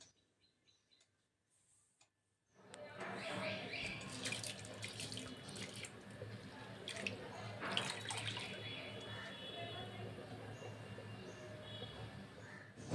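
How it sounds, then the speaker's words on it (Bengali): Water pours steadily into a hot kadai for cooking masoor dal, a continuous splashing rush that starts abruptly after a quiet moment and carries on at low level to the end. "এখানে কড়া খুব ভালো করে গরম করে নিয়ে তাতে দিয়ে দেবো জল"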